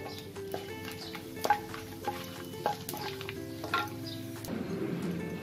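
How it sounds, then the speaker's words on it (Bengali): Whole garam masala, a bay leaf and cumin seeds tempering in hot mustard oil in a kadai, a steady low sizzle with a few light clinks and stirring scrapes, close and alone. "তেলটা গরম হয়ে গেলে আমি গোটা গরম মশলা, একটা তেজপাতা আর একটু জিরে ফোড়ন দেব।"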